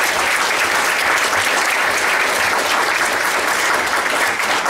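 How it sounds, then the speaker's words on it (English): An audience at a hall-of-fame induction event applauds steadily, a thick continuous wash of clapping from many hands, loud and even throughout with no talk. "How about a big round of applause for all the great moments that we've"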